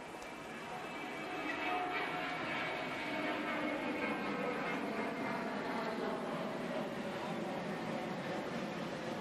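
An aeroplane passes over a tennis stadium during a 1996 US Open match, a low broad droning roar swelling in and holding steady at a moderate distance.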